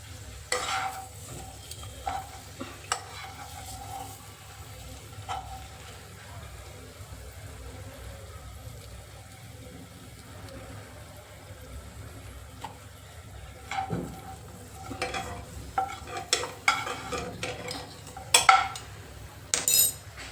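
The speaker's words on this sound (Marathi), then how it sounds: "माझी बटाट्याची कापं फ्राय करून झालेली आहेत" Potato slices fry in oil with a low, steady sizzle, broken by scattered clinks and stirring scrapes that grow busier toward the end. No one speaks.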